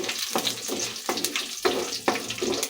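Bitter gourd frying in oil with dried red chillies and garlic in a pan, a steady close sizzle broken by regular stirring scrapes about every half second.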